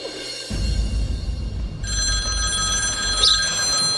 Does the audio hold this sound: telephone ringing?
yes